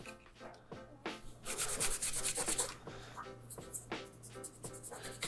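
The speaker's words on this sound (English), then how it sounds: "we can nicely kind of rub that off, get that excess off there, get it real nice and cleaned off" Repeated rubbing strokes as old thermal paste is wiped off a GPU, a dry scuffing swish in uneven passes, close up with no speech.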